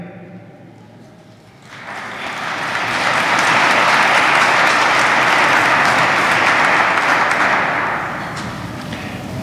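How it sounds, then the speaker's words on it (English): Church congregation applauding during a Feast of the Holy Family homily: after a quiet opening, clapping swells quickly into loud, steady applause that holds for several seconds, then begins to taper off. "Your applause indicates a slight agreement"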